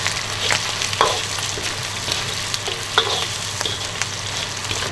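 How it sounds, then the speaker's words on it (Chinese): Ginger, garlic, dried chilies and Sichuan peppercorns sizzle in a hot wok with oil, a steady dense crackling hiss broken by occasional scraping stir strokes, close and continuous. "加姜蒜，干辣椒、干花椒，把香味儿炒出来哈"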